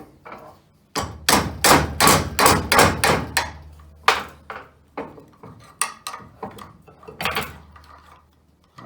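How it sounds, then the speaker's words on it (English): A hammer strikes a metal part of a Felder AD741 jointer planer during a cutterhead swap, with a quick run of loud, ringing blows followed by slower, spaced knocks and some clatter. "I don't know if the book says anything about hitting this with a hammer"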